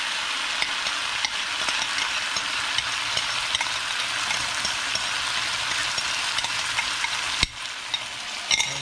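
Shrimp in mayo sauce being stirred in a pan, giving a steady close sizzle with soft scraping throughout, one sharp click near the end and no talking.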